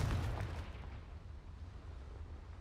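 A Confringo spell blast in Hogwarts Legacy: a loud, rumbling explosion that hits hard at the start and then fades into a long, roaring tail of noise, with no voices over it.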